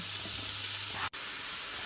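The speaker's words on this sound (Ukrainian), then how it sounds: "На розігріту сковорідку я додаю е, вершкове масло та відправляю сюди яблучка" Steady sizzling and hissing of apples frying in butter in a hot pan, close and continuous, with a brief dropout near the middle.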